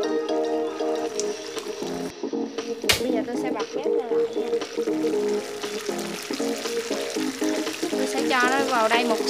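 Beef balls with chili sauce fry in a hot pan, a dense continuous sizzle and spatter with clatter from a utensil and one sharp pop, while a person talks over the cooking.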